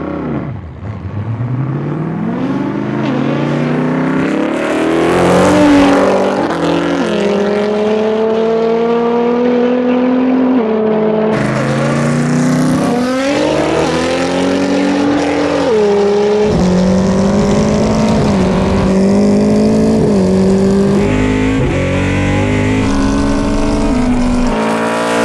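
Rear-wheel-drive Nissan R35 GT-R and a Trans-Am Series racecar drag racing side by side, engines roaring loud and close as both accelerate hard through rising gear changes, sustained full-throttle howl without talk.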